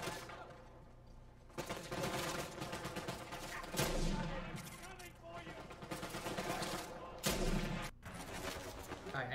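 Sniper rifle fire in Uncharted 4 comes as several sharp, loud shots spaced a few seconds apart amid busy combat noise and steady background music.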